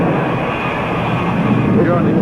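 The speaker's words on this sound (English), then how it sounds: "This is the F-100 pass." An F-100 jet aircraft makes a pass in formation flight, a continuous broad roaring rush that swells slightly toward the end, with someone narrating over it.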